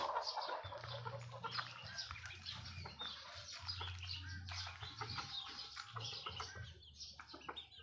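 A large, tall chicken clucks in low, repeated bursts on a farm, faint and fairly close, with small bird chirps scattered around it.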